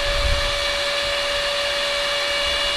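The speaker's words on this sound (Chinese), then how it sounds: "迪迦神光棒电动小风扇" A toy electric mini fan shaped like Ultraman Tiga's Spark Lence runs with a steady, close whirring motor hum and a thin high whine, unbroken throughout.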